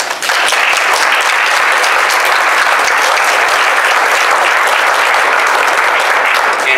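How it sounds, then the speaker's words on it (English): Sustained audience applause at a Saturday-morning town deliberative session, a dense, loud, even wash of many hands clapping from start to finish with no talking over it. "let's give them a round of applause."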